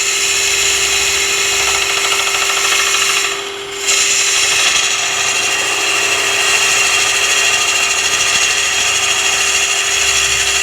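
Power tool hollowing a twisted wooden hollow form on a lathe with a beam-track rig, a steady loud grinding whine running continuously with a brief dip near the start, no voices.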